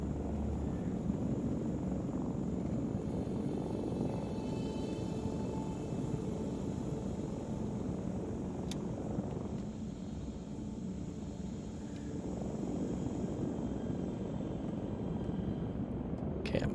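The engine of an ornithopter running on afterburner in the Dune video game gives off a steady, loud, broadband roar with a propeller-like drone that holds almost unchanged for about seventeen seconds, dipping only briefly near the twelve-second mark.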